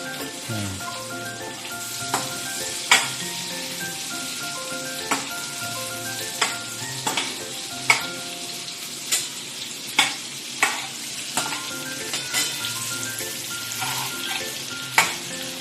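Onion and Maggi noodles with Maggi masala and kasuri methi sizzle steadily in a pan while a spoon scrapes and clacks against it at irregular intervals, loud and close with no talking.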